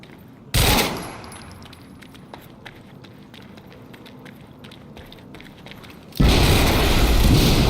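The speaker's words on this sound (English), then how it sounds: "we just heard an explosion near the harvesting perimeter" Explosion in the video game Quantum Break: a sudden loud blast that decays over about a second, then quieter rustling and clicks, followed by another loud sustained roar near the end.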